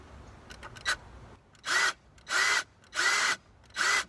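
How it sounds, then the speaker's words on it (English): Four loud, steady bursts of a power drill boring into car trim on a VW Golf GTI Mk7, each lasting about a third of a second with short pauses between, preceded by faint clicks. "and then you start drilling"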